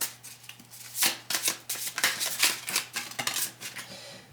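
A deck of playing cards being shuffled in repeated quick riffles, a run of crisp fluttering bursts close to the listener with no voices.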